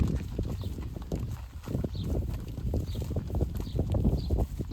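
Cattle moving about a small hay yard on a ranch, with hooves thudding and shuffling in a steady, uneven patter close by and no talking.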